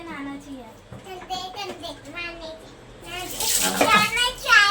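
Water sloshes and splashes in a tub during a child's bath while a child and an adult talk and sing, the splashing growing louder and busier toward the end.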